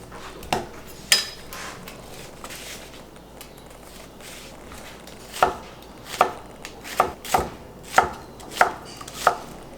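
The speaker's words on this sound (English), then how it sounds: "we're going to break down this onion, we're going to chop up this garlic" A knife chops onion and garlic on a cutting board in steady, close thuds, sparse at first and then a regular rhythm of sharp knocks, with no talking.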